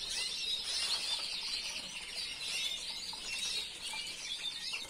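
Small caged birds, including a Valencian-type canary, chirp in high, busy twitters with soft wing flutters throughout, steady and fairly faint, with no talking.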